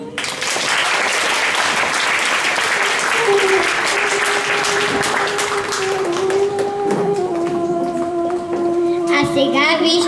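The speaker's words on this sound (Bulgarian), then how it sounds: "Аплодисменти за нашите артисти." Audience applause for kindergarten performers at a graduation celebration, a thick continuous clapping with children's voices and a tonal sound running through it, lasting the whole time.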